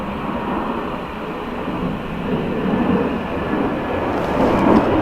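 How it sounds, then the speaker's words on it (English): An Aer Lingus airliner in newer livery at Dublin Airport gives a steady, broad jet roar that swells slightly toward the end, heard alone with no voices. "So Aer Lingus with the newer livery."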